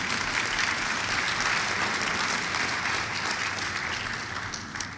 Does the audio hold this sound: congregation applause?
yes